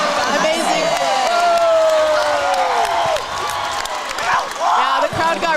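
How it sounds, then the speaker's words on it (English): Spectators at a women's basketball game cheer loudly after a strong ball-handling move, a sustained roar of whoops and shouts with some clapping, close and dense throughout, with squeaking sneakers faintly underneath. "Yeah, the crowd got really hyped for that one."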